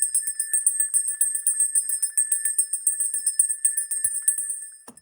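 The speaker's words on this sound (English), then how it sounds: "Meghan, I'm going to use my bell." A small hand bell rings rapidly and continuously for about five seconds, a bright, steady jingle with no talking before it stops.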